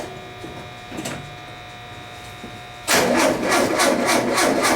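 An old Volkswagen engine with a freshly primed carburetor cranks after a faint click, a steady rapid churning of the starter that starts abruptly and keeps turning without catching, close and fairly loud.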